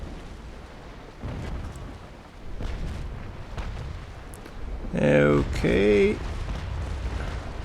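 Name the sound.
cannon fire from an enemy warship in Naval Action video game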